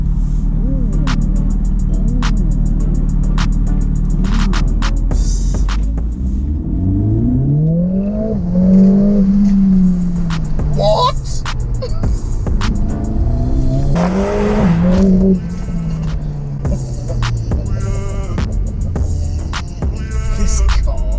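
Mercedes A45s AMG in S plus mode accelerating hard from inside the cabin, a loud continuous engine roar rising and falling through gear changes, with sharp crackles and clicks over the drone.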